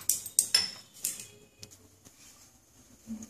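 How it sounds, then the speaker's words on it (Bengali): A metal wok is set down on a gas stove in a home kitchen, giving several sharp clanks and clinks in the first second, then fading to near quiet with a faint hum. "গ্যাসে কড়াই বসিয়ে দিচ্ছি"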